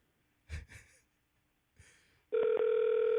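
After a couple of short breathy noises, a loud electronic telephone ring tone starts abruptly and holds steady near the end.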